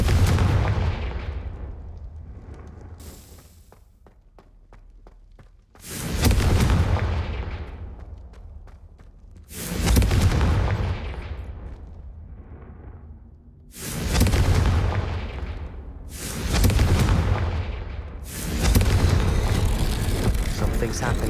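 Repeated Confringo spell explosions in Hogwarts Legacy, about six heavy booming blasts at uneven intervals, each loud near impact decaying into a long rumbling tail.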